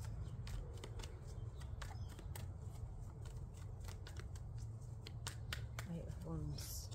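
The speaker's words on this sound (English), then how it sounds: "Let me get just one more card out on here." A tarot card is drawn from the deck in a quiet room, producing a series of soft, crisp card flicks and slides with a brief rustle near the end.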